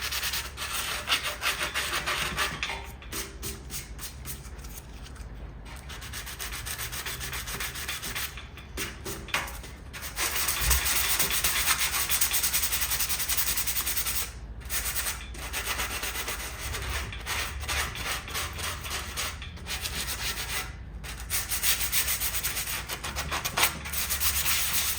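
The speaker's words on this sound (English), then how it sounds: "This is a 120 sanding sponge by Norton" Steady hand sanding of a car panel with a Norton 120-grit sanding sponge, rhythmic scratchy strokes repeating close up in quiet surroundings with brief pauses between passes.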